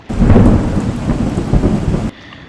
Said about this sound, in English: Lightning and rainstorms.